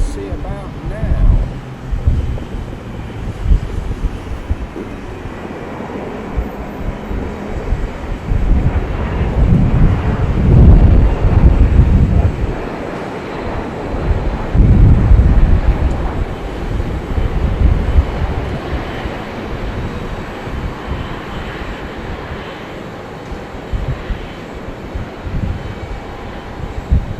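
An Airbus A380 airliner passes over Heathrow Airport with a low, rumbling engine roar that swells and fades over the whole stretch, buffeted by wind on the microphone.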